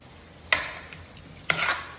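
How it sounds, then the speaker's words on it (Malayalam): Chicken being mixed with eggs and cornflour in a bowl, two soft stirring scrapes about a second apart, close and alone with no talk. "അപ്പോൾ അതൊരു 3 സ്പൂണും കൂടി ആഡ് ചെയ്ത് ഒന്ന് മിക്സ് ചെയ്തിട്ട് എടുക്കാം."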